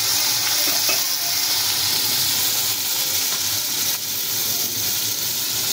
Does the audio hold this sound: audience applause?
no